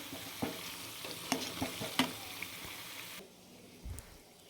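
Idli pieces frying in a hot pan, sizzling close up with sharp stirring clicks and scrapes, then the sizzle drops to a quieter hiss partway through.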